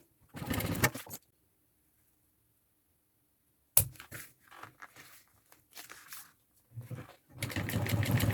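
A sewing machine stitches lining and piping onto the bottom of a thermal backpack in two brief bursts, one near the start and one at the end, separated by silence and intermittent speech.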